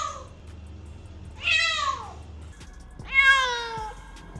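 A newly adopted cat gives two loud, drawn-out meows close by, separated by a brief pause, against a quiet indoor background.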